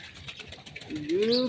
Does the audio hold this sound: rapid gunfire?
no